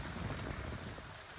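Steady rain pours at a tea garden, a dense, continuous hiss of drops striking surfaces close by, with no voices over it.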